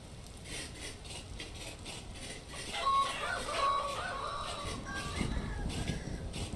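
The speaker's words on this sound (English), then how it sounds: "Cock-a-doodle-doo." A rooster crows in the survival game Vintage Story, a faint, distant cock-a-doodle-doo over a steady low background hum.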